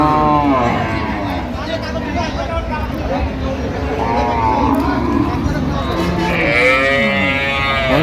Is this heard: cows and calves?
yes